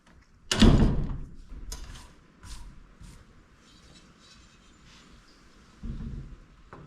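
A steel shipping container door closes with one loud, booming metal slam, followed by a few lighter knocks and rattles, then a second softer thud near the end, all close by in a quiet space.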